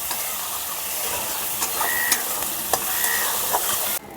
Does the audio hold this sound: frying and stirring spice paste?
yes